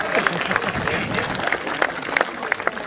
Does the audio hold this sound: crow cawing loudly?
no